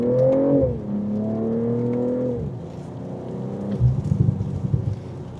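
A BMW M340i straight-six engine accelerating under load, its tone climbing steadily through a gear before a shift, then settling into a rougher, throbbing note, close and loud from inside the cabin.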